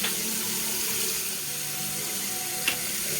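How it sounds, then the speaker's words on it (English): Tap water runs in a steady stream while corned beef or brisket is washed with lemon and vinegar, ending with a brief clink. "So I'm gonna wash this with lemon and vinegar as usual."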